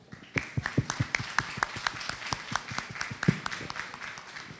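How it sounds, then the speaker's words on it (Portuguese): Applause from a small audience at a business talk, a sparse run of distinct individual claps in a quick irregular rhythm, close and fairly clear, with no talk over it. "E o senhor merece uma salva de palmas."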